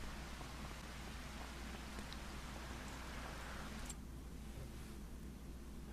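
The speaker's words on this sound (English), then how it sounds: "Freaking rain." Rain falls in the farming video game Farming Simulator 25, a steady soft hiss of moderate level running throughout with a slight change in tone near the end.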